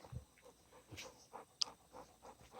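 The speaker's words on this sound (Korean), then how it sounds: "짖는 게 아니라 막 끙끙 대가지고" At about three in the morning, a dog faintly whimpers and pants at night, giving soft, irregular breathy whines and sniffs at low volume with one brief sharp click midway.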